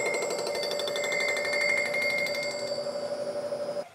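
Bridgeport milling machine flycutting a turbo manifold flange for a Miata, giving a steady, loud metallic ringing whine with sustained high tones and a rapid pulsing chatter that runs continuously, then cuts off abruptly at the end.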